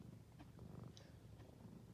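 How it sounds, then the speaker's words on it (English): A cat purring close by and softly, a steady low rumble running under the whole stretch with faint higher clicks and rustles over it. "you can hear her purring"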